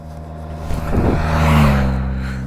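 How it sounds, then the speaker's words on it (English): BMW motorcycles ride past, a low engine drone rising to a close, loud pass near the middle and then fading gradually, with layered engine hum lingering as the riders move away. "There goes our friends from the hotel on their BMWs"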